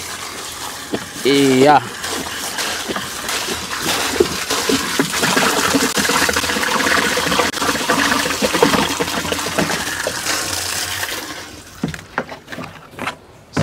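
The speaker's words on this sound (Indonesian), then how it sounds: "ini kita masukkan dari air hasil dari ternak lele." Water from catfish farming is poured into a liquid organic fertilizer mix, a loud continuous gush and splash that lasts most of the clip, with a person speaking briefly.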